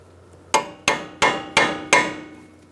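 A hammer strikes a cold chisel five times in an even rhythm, staking a nut into its groove during a lower control arm bushing job on a 2002–2006 Honda CR-V. Each blow is a sharp, close metallic ring that quickly fades.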